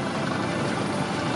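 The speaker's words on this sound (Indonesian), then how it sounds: "KRI Sultan Hasanuddin sebentar lagi akan melaksanakan fair trap vertical replenishment dengan helikopter AS-565 Panther" An AS-565 Panther helicopter flies over a naval parade for the Indonesian armed forces anniversary, its loud, steady rotor and engine roar filling the scene without pause.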